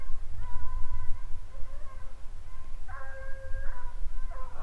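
A Running Walker hunting hound bays in long, drawn-out howls at a distance, several calls spaced apart over steady low rumbling background noise.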